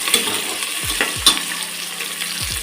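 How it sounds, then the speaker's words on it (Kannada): Onion, garlic, curry leaves and mustard seeds frying in hot oil for a tempering, with a loud continuous sizzle close up and a few stirring scrapes. "ಒಗ್ಗರಣೆಗೆ ಈರುಳ್ಳಿ, ಬೆಳ್ಳುಳ್ಳಿ, ಕರ್ಬೇವಿನ ಸೊಪ್ಪು, ಸಾಸಿವೆ, ಎಣ್ಣೆ ಹಾಕಿದ್ದೀನಿ"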